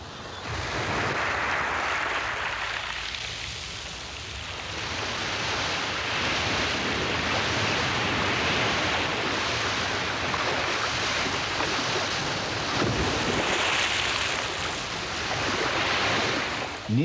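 Strong surf pounds a steep beach in a continuous roar of breaking waves and wash, loud and close with gusts of wind noise, no voices.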